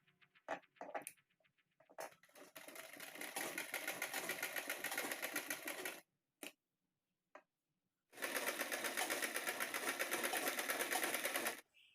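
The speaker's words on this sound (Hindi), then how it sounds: "अब मैं साइड में सिल्वर कलर की लेस लगाते हुए सिलाई लगाऊंगी।" A sewing machine stitches silver lace onto the side of a kurta with a side dori. It runs in two steady rhythmic bursts of several seconds each, separated by quiet handling clicks and pauses.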